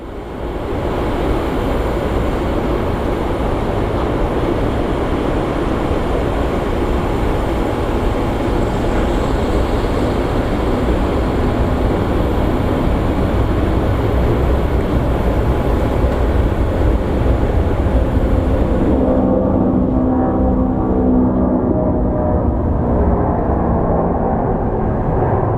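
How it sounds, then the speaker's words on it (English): An American Airlines jet making its takeoff roll on a very dusty runway at Phoenix Sky Harbor, a loud steady roar of engines that holds for a long stretch before the high whine drops away, leaving lower rumble. "we have American Flight 194 on its roll"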